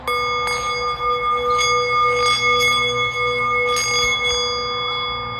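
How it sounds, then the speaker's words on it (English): A bell rings out with a bright, sustained metallic tone, struck repeatedly in an uneven rhythm and lingering throughout. "when I heard that bell"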